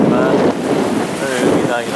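A sailboat runs under full mainsail and genoa in a 13 to 15 knot breeze off Cadiz, with steady rushing wind and water wash, loud and close throughout.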